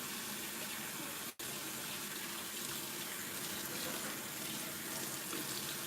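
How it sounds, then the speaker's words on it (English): Hands are washed under a running tap: a steady, close rush of faucet water pouring into a sink, with one momentary break in the flow, and no voices. "Of course, I gotta wash my hands."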